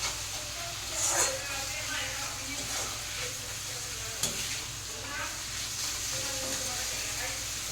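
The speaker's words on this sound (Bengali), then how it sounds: "বেশ ভাজা ভাজা হবে।" Noodles fry and get stirred in a pan, giving a steady broadband sizzle with scraping stirs and a few louder clatters at moderate distance, the cook's voice coming in over it now and then.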